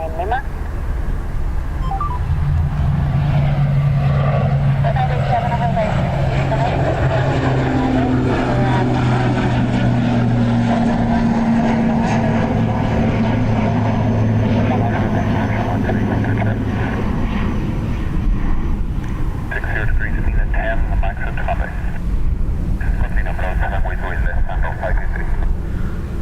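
A Qatar Airways Airbus A330 at Dublin Airport gives a sustained jet engine roar that stays loud and steady throughout, with a low droning tone, while people talk over it and tower radio chatter cuts in near the end.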